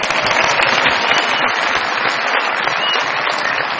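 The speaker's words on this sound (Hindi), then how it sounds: "बहुत सारी तालियां अमरीना अमीर साहिबा के लिए जी।" Dense, steady applause from a studio audience at a televised comedy show, loud and continuous with no break for the whole stretch.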